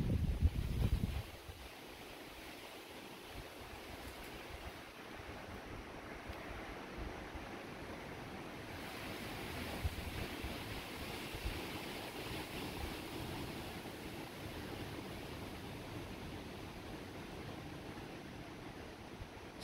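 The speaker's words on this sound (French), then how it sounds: "J'entends plus le vent que le tonnerre." Strong gusty wind roars steadily through a thunderstorm, a broad, fairly faint rushing that swells and eases for the whole stretch with no thunder standing out.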